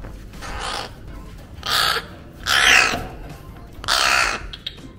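Loud bird calls in four separate bursts, each about half a second long, from a pet Asian koel that hatched in a crow's nest, heard up close indoors at morning feeding time.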